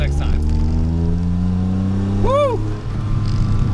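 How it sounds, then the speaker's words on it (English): A DeLorean car pulls away with a steady low engine drone that rises gradually in pitch, loud and close, while a person speaks over it and a brief rising-falling whoop cuts in near the middle. "As we run off in the DeLorean"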